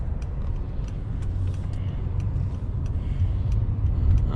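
A Mercedes-Benz S550 4Matic with a V8 accelerating smoothly on the road, a steady low engine rumble and road noise under a quiet cabin, gently building in loudness toward the end.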